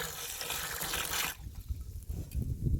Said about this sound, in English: Now we're gonna just add a little water in there,